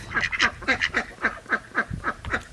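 Ducks quack repeatedly in a steady, rapid series of loud, nasal calls, close by, with little else underneath, outdoors among backyard chickens.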